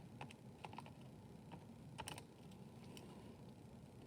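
Numbers being keyed into a calculator, with quiet, irregular clicking taps of buttons over faint room hiss, no talking.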